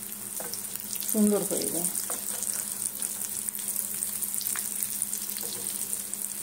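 Banana blossom chops shallow-frying in a little oil over a low gas flame, with a steady soft sizzle and bubbling close by, a brief spoken remark over it near the start.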